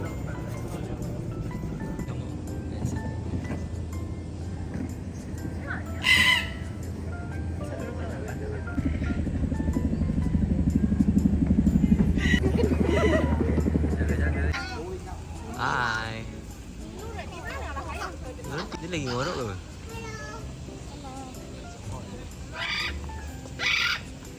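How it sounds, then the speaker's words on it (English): Parrots call in an aviary at Bird Paradise, with sharp, scattered squawks rising over a steady crowd murmur and people talking nearby. "Welcome to the land of parrots."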